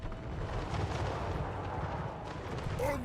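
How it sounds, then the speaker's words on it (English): Grenade launchers firing in a Total War: Warhammer battle with Beastmen and Empire forces, a dense, continuous roar of distant gunfire and explosions rumbling steadily under the battlefield din, with a faint rising tone near the end. "Oh, yep, and they got the grenade launchers."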